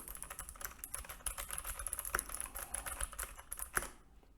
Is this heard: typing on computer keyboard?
yes